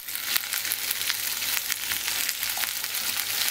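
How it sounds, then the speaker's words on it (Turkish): Potatoes with red and green peppers frying in a pan over high heat, giving a steady, close hiss and crackle with scattered sharper pops throughout. "bir tane kırmızı biber, bir tane de yeşil biber ilave edip biraz da onlarla kızartacağım"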